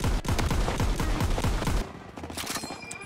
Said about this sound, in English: Everyone open fire!